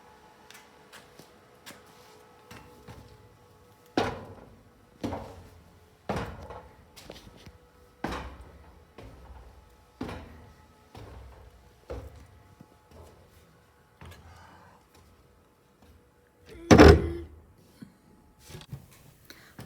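A door in the attic high above a 1920s theater is opened and closed again and again, giving a run of sharp knocks and creaks with one louder thud near the end, under quiet surroundings.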